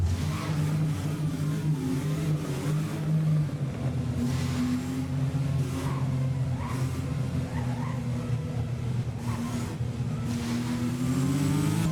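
A W Motors Lykan Hypersport in the Driving Empire game, its engine droning at a steady mid pitch with rising and falling revs, sustained and fairly quiet throughout.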